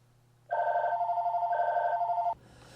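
An AT&T DECT DL72219 cordless phone rings with a loud electronic trill in two bursts, each a fast warbling tone, ending abruptly as the call is picked up, with no talking over it.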